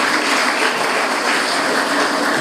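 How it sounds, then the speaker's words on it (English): An audience applauds the graduating class at a college prize giving, with dense, continuous clapping from many hands filling a hall, loud and steady with no breaks. "Please put a big hand of applause for all the graduates of today."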